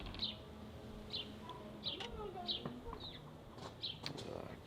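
House sparrows chirp in a backyard, bright short calls repeating roughly every second at moderate distance over a steady low outdoor hum.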